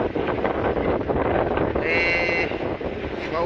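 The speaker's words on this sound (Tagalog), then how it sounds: "Malaki ang alon at saka mahangin." Strong wind buffets the microphone aboard a small fishing boat on rough sea with big waves, a steady loud rushing roar with engine and water noise underneath and a brief faint tone in the middle.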